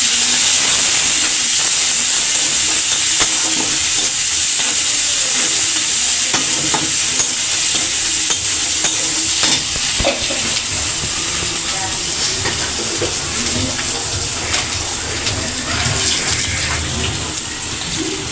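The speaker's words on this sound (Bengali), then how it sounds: "হাফ চামচ রসুন বাটা হাফ চামচ আদা বাটা দিয়ে দেবো একটু ভেজে নেবো" Garlic paste and ginger paste frying in a pan for a cauliflower, long bean, flat bean and potato vegetable curry, giving a steady loud sizzle with stirring scrapes throughout and no talk.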